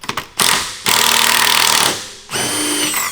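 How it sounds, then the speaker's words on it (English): Bursts of a power tool whir loudly up close while work goes on at a rusty BMW 335i rear axle during a Ford 8.8 swap, with short pauses between the runs. "It's a lot easier when you get the power tools."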